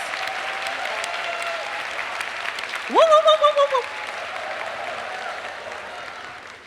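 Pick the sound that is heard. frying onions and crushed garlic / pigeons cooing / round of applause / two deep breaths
round of applause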